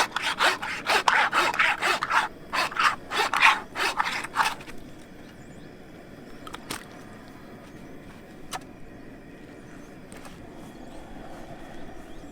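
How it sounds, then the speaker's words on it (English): A hand meat saw rasps through a hog carcass during home butchering, removing the head with close, rhythmic back-and-forth strokes for several seconds, then stopping and leaving only faint scattered knocks and handling noises. "take out your meat saw"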